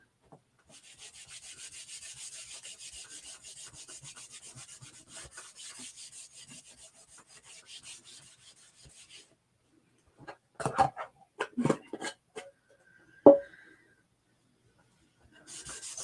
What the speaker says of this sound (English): So now I'm just taking a dry portion of my rag, making sure I get it good and buffed in.